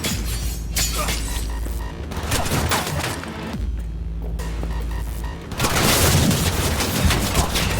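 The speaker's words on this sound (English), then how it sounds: "Heard shots." Gunfire in the video game Cyberpunk 2077: bursts of dense, rapid shots with booming impacts, continuous and loud through most of the stretch, with a brief lull before a heavier final volley.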